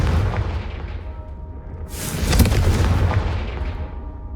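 A Confringo fire spell bursts in Hogwarts Legacy, a low rumbling explosion that swells suddenly midway and rolls on with a dull booming tail, loud and close with no talking.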